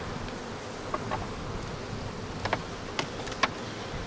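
Honey bees buzzing around an opened hive during an inspection, a soft continuous drone with a few bees passing close by, alongside faint light ticks and taps.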